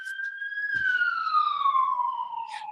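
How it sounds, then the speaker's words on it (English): An emergency vehicle siren sounds outside, a single loud, steady wail that glides slowly downward in pitch as it passes, with no talking over it. "sorry, there's an ambulance. I don't know if you guys can hear that"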